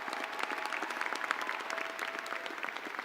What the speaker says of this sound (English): A round of applause for these remarkable students.